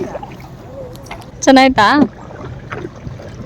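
Soft splashing and trickling of a boat moving on water near Mysore, a low continuous wash broken midway by a brief, loud spoken question from a nearby person.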